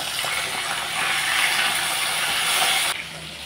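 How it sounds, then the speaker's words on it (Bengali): Pabda fish lightly frying in oil, giving a loud, even hiss of sizzling that holds steady before dropping abruptly near the end. "সবগুলো মাছ আমি এখন এইভাবে হালকা করে ভেজে নিচ্ছি"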